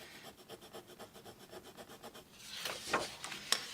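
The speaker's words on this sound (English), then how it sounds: "I'll take my bone folder and I'll kind of scribble out that" A bone folder drags across paper to score a line, making a steady series of soft rhythmic rubbing strokes that turn into louder, harsher scratches toward the end.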